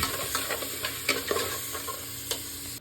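Frying ingredients for dal hiss steadily in a pan while a spoon scrapes and taps several times at an uneven pace, close up, no one speaking.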